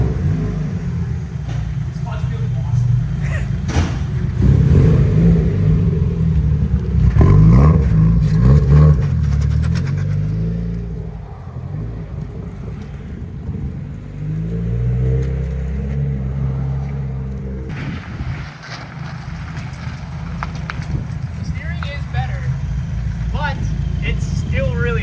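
Turbocharged Mazda Miata driving slowly around a shop, its engine rumbling low and moderately loud, with a couple of short revving swells, while people talk throughout.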